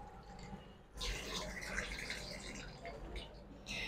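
Tap water runs over a hand coated with a waterproof makeup base, a quiet rushing splash that starts abruptly, keeps up a soft steady hiss, then briefly breaks and resumes.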